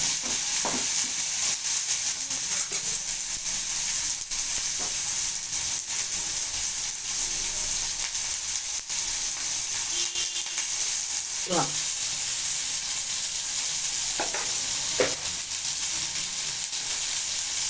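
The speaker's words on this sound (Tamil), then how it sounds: "அடுத்தால கொஞ்சம் மிளகு சேர்த்துக்கணும். நல்லா வதக்கணும்." Black pepper sautéing in a pan for Chettinad fish curry, a steady close sizzle and hiss with a few scattered scrapes and stirring clicks, continuous throughout without talk.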